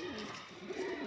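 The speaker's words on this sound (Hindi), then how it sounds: "यह मेरा कबूतर है जो लकवे में था" A pigeon recovering from paralysis gives a soft, low coo. It is faint and brief, heard close up against quiet background noise.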